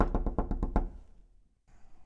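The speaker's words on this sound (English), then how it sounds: "Then a knock at the door." A door is knocked several times in a quick, even series of seven solid, close raps, then silence follows, as part of an audio drama.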